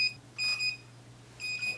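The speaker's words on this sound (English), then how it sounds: "It's beeping at me again." An electronic appliance beeps in two short bursts of high, steady tones, fairly close, with no talking.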